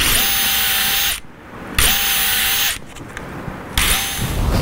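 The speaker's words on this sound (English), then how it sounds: "I'm mainly drilling through the jamb as well." A power drill bores through a wooden door jamb into the stud behind it, running in three loud bursts with short pauses between.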